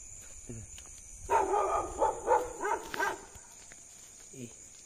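A dog on a rooftop gives a quick run of about five barks, rising and falling, over a steady high hum and quiet background.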